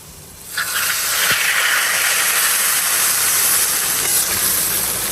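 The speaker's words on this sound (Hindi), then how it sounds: "और साथ ही मैं डाल दूंगी जी तड़का भी" Hot tempering hits kadhi with a sudden loud hiss that swells into a sustained, steamy sizzle and stays strong to the end.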